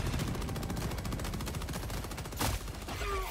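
Rapid automatic gunfire from the video game Helldivers 2 in a fight against bugs, a dense, steady stream of shots with a louder burst near the end.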